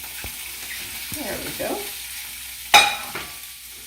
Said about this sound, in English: We'll put these down on the frying pan and make sure that there's plenty of room.